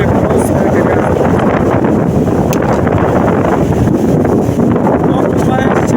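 Strong wind buffets the microphone at a stormy seashore near the Neptun resort, a loud continuous roar with surf churning underneath.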